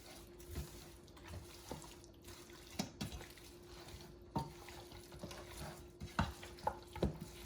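Soft spoon stirring as salt is mixed into a home-cooked African dish, with intermittent scraping knocks against the pot over a faint low background hum.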